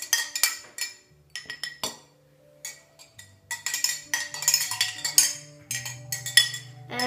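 A spoon clinks against a bowl while sugar is mixed with food coloring for sugar skulls. The clinks are sharp, close and loud, coming in irregular bursts over faint background music.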